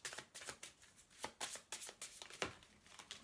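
Tarot cards are shuffled by hand in quick riffling bursts, close and crisp, with no talking.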